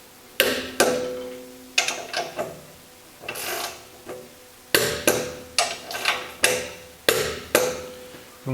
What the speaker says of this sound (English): I'm just going to torque these to 35 Newton meters